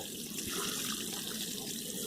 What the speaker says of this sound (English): So there's 7 litres going into that of water